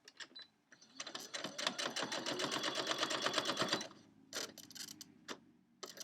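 Sewing machine stitching a quilt with a rapid, even, loud run of needle strokes lasting about three seconds, followed by a few softer clicks and handling sounds.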